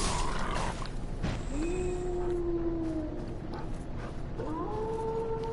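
A dog howls in the video game Dark Souls III: Ashes of Ariandel, giving a long, rising, tonal wail that holds and then starts again, heard over steady game ambience.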